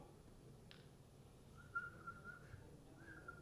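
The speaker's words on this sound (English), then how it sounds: "Did you just whistle at me like I'm a dog?" A short, faint whistle, a couple of thin sustained notes, over quiet background hiss.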